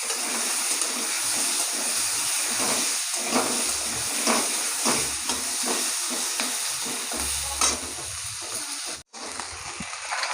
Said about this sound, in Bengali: তেলের মধ্যে একটু হলুদ দিয়ে দেবো, এই আলুগুলো ভেজে নেবো।